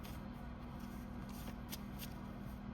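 Cards being shuffled continuously, a soft papery riffling and flicking with a few sharper snaps, close by with no voices.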